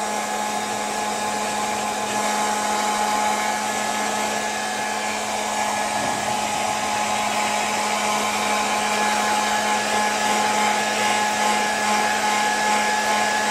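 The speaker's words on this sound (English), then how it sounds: "is really one of the best hair dryers you can use on a dog." A Panasonic EH5305P Ionity hair dryer runs steadily while drying a dog, giving a continuous close, even whoosh with a fan whine and hum that does not change throughout.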